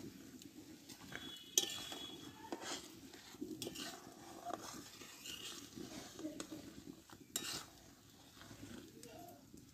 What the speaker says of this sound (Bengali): এই দুধটাই আমি কিছুটা আমি চিনি দিয়ে দেবো একটু মিষ্টির জন্য। চিনিটা আমি একটু গলিয়ে নেব দুধের সঙ্গে।